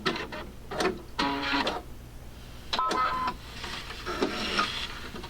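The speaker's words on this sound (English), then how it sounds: "So you have to push the start button and sew the last half inch straight yourself." A Quattro 3 sewing machine finishes the last half inch of edge sewing, giving short uneven bursts of mechanical whirring and clicking with pauses between them, fairly close.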